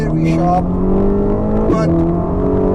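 A loud Ferrari Roma engine revs hard under steady driving, its tone climbing and settling, with someone talking over the drone throughout.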